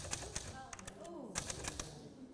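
A snappy manual typewriter struck by hand at close range, giving a handful of sharp, uneven key clacks with brief pauses, while a voice is heard faintly in the background.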